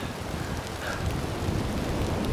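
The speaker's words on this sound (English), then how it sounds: "so, and it's raining" Steady rain hisses down in the woods during a thunderstorm on a solo backpacking trip at Minister Creek, Pennsylvania, a dense even wash of noise with wind buffeting the microphone and no voices.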